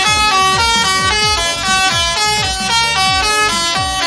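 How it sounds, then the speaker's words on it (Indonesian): A six-trumpet Pakistani telolet bus air horn blares a loud, rapid repeating melody of stacked tones, bright and continuous. "klakson telolet Pakistan 6 corong"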